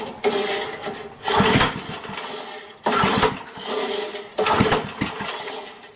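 A Briggs and Stratton small engine being pull-started, several loud rasping recoil pulls in succession, each a short surge of whirring that sputters without catching, heard up close.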